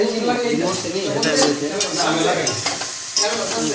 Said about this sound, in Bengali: কষানো হচ্ছে, মশলা কষানো হচ্ছে এখানে।